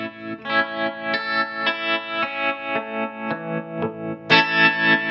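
Electric guitar chords pulse through a Pigtronix Tremvelope tremolo envelope pedal set to high sensitivity, each strum swelling and throbbing in a steady rhythmic tremolo, loud and close with no talking.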